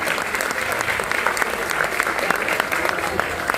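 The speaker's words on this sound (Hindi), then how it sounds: "तो हमारे मैनेजमेंट के लिए जोरदार तालियां होनी।" An audience applauds its management at a business talk with loud, sustained clapping, a dense steady wash of many hands throughout with no pauses.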